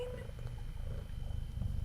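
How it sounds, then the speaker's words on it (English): Close, low rumbling purr of a house cat held right against the microphone, continuous and throbbing for under two seconds, no talk. "She's purring into the microphone."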